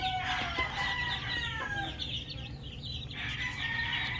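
Newly hatched chicks, about three days old, peep and cheep in a steady chorus of high, bright chirps, close and lively, with a low background hum and no talk.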